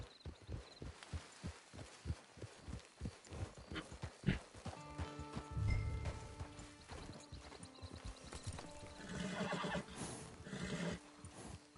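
A horse in Red Dead Redemption 2 clip-clops at a steady rhythm, then snorts and whinnies with game music rising behind, fairly quiet overall.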